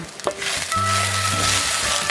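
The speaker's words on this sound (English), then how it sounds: "I'm just sauteing the onions" Onions sauté in a pan with a steady, close sizzle that carries through throughout, with faint clicks and a brief tonal hum in the background.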